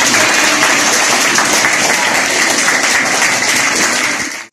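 A classroom of sixth-grade students applauds for a classmate's birthday, steady dense clapping sustained for about four seconds before cutting off abruptly.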